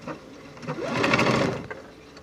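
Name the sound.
sewing machine running a fixed stitch on face mask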